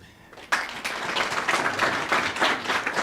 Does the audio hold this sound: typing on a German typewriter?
no